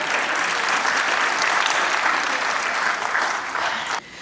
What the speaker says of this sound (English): Clap it out for that.